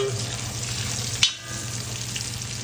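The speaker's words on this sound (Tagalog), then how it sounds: "Isa tayo ng sibuyas. Lagyan natin yung butter." Onion sizzles in melted butter in a pan, a steady close hiss with one sharp clink partway through, no voices.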